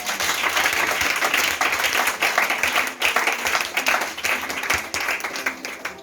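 A church congregation breaks into sustained applause, dense overlapping hand claps that swell and pulse in waves, with scattered voices mixed into the crowd noise.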